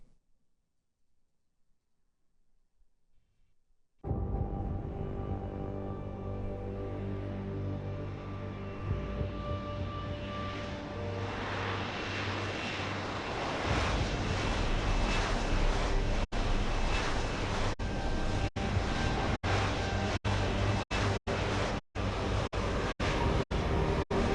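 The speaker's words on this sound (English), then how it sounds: "that jet engine thing is so loud it just destroys my audio" A jet engine in the video game Deus Ex: Human Revolution roars in steadily after a quiet start, a loud, dense, broadband blast that swells and stays overwhelming, with sharp crackling bursts near the end.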